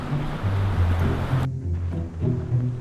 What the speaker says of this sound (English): the water is still running and it's not frozen